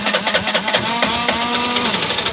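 A Suzuki Burgman 125 scooter engine cranks and catches after an idle-control fix, settling into a steady, fast-pulsing buzzy idle that runs close and fairly loud throughout.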